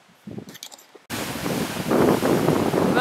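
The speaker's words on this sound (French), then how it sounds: "Il y a des grosses vagues." Large ocean waves roll onto a rocky shore of Quebec's Côte-Nord, a dense, roaring wash of surf that starts abruptly and swells louder, mixed with wind buffeting the microphone after a few faint noises.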